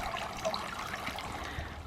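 A solar-powered garden water feature trickling in a cottage garden, a soft, steady splashing and dribble of water heard alone at moderate volume.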